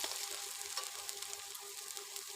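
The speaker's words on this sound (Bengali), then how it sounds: "সেই থেঁতো আদা রসুনের থেঁতোটাই দিয়ে দিলাম তো এটাকে আবারও সুন্দরভাবে ভেজে নেব পেঁয়াজের সঙ্গে" Crushed ginger and garlic frying with onions in a pan, a faint steady sizzle with light stirring, no voices.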